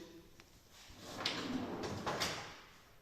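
A kitchen cabinet drawer in an L-shaped fitted kitchen slides open or shut, with two soft scraping runner sweeps about a second apart, close and fairly quiet with no talking.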